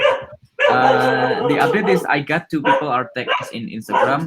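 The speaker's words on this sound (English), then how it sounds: "I'm really sorry about my dog." A dog barks and yips loudly and close by indoors, in a long sustained bout followed by shorter barks, nearly continuous under a person talking over it.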